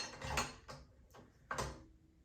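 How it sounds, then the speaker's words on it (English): A paddle attachment being fitted onto a stand mixer gives a few quiet mechanical clicks and clunks, spaced apart with soft handling noise between them. "I'm gonna get started by putting on my paddle on my mixer."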